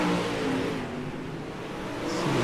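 Super late model race cars roaring around the Lanier oval during a feature race, a continuous loud engine drone that dips slightly in the middle and swells again at the end.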